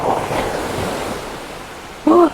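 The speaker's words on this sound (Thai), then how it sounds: "มานั่งรับลมทะเลอีกแล้ว" Sea waves and wind at an evening beach in Trat province, Thailand, a loud rushing surf and wind noise filling the clip, with a short voice breaking in at the very end.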